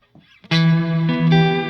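Neunaber Wet Stereo Reverb on an electric guitar with the mix at 100%, sustained chords swelling into a loud, washy reverb tail after a brief soft pluck, heard alone.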